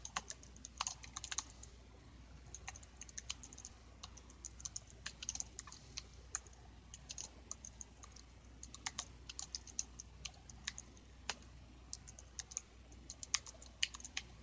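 Typing on a computer keyboard: quiet, rapid, irregular key clicks that run steadily for about fourteen seconds over a faint background hum.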